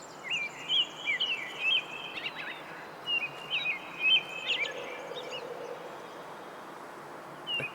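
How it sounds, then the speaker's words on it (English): In the hunting game Way of the Hunter, loud background birdsong repeats in short chirping bursts over a steady insect-like hiss of forest ambience. "Just stupidly loud background bird sounds."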